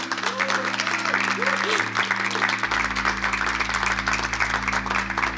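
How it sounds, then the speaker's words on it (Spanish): Congregation at a church service clapping together for Jesus, a steady, moderately loud wash of applause throughout, with music and a voice continuing underneath. "Dar un aplauso a Jesús."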